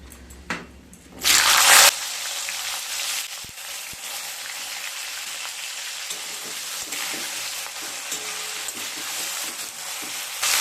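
Chopped flat beans go into hot oil with a pinch of asafoetida and black cumin for a Bengali sheem paturi, starting with a loud burst of sizzling that settles into a steady frying hiss, close and without talk.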